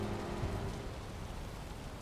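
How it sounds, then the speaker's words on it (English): Steady rain from a storm in the Valheim game world, a dense even hiss that fills the whole moment with a faint low rumble underneath and no voices. "it doesn't seem like the storm's let up. It's a pretty rainy morning."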